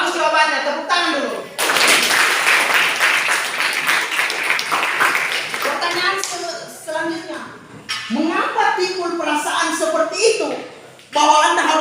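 A burst of classroom-style clapping from a group at a teacher-training session, starting abruptly and fading after several seconds, framed by a person talking before and after.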